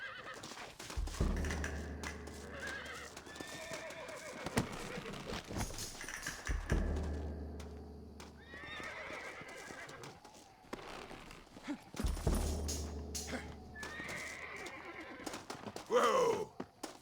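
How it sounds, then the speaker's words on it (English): Horses in Red Dead Redemption whinny repeatedly and gallop, with several loud neighs and pounding hooves over a busy game scene, and voices break in now and then. "Looks like Carlos left us some horses."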